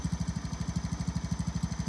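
A John Deere 160 lawn tractor fitted with a 42-inch snow plow runs steadily close by, its small engine chugging in a fast, even pulse with no voices over it.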